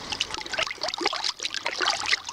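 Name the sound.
rinsing a copper electroplated part with water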